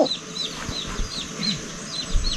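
Chickens cluck and chirp in short repeated bursts over a low background hum, with occasional soft knocks and rustles.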